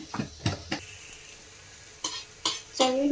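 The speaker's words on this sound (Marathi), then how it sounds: "मिसळ मसाला एक चम्मच, तेल सुटेपर्यंत चांगले भाजायचे आहे।" Misal masala spice roasting in oil for Kolhapuri misal pav, with a few soft stirring scrapes and light sizzling bursts in a quiet kitchen, a brief spoon or pan knock near the end.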